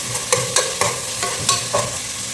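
Whole spices such as cinnamon, cloves and cardamom crackle in hot sunflower oil for mutton biryani, a steady close sizzle punctuated by regular scraping stirs about every quarter second.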